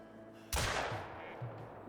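Single sharp hunting rifle shot in theHunter Call of the Wild, a loud close crack with a rolling echo that fades over about a second, followed by a faint secondary thump.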